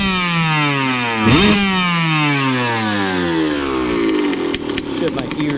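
A Suzuki RM125 two-stroke motorcycle engine fires up and revs hard, its loud, buzzing, high-pitched note climbing and falling in steady sweeps with a brief sharp blip, close and continuous throughout.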